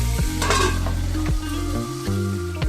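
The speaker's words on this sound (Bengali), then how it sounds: "একইভাবে এই সবজিগুলোকে ভেজে নেব" Mixed vegetables fry in hot oil in a wok with a steady loud sizzle, while a utensil scrapes and stirs through them in repeated strokes, close up and with no talking.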